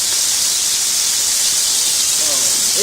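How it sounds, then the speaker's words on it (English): Onions and peppers for jambalaya sizzle in a hot pan, a loud, steady hiss of frying that fills the whole clip with no pauses. "And then we're going to put in the onions and the peppers that we cut."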